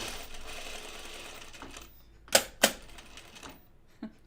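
Cover stitch sewing machine running on denim jeans, a steady close mechanical whir that stops partway, followed by a few sharp clicks and knocks, with no talking.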